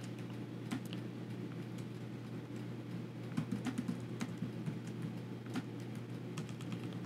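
Rapid clicking of fingers typing on a computer keyboard, irregular taps and keystrokes over a steady low background hum, fairly faint and without any voice.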